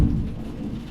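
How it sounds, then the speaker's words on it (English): Heavy rain pouring down with thunder, a dense low rumble and steady wash of rainfall, loudest at the start and then a constant roar, with no one talking. "So for podcast listeners, it might be a little confusion that you can hear rain and thunder."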